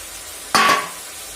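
Chopped tomatoes land in a hot pan, bursting into a short loud sizzle that quickly settles into a softer frying hiss.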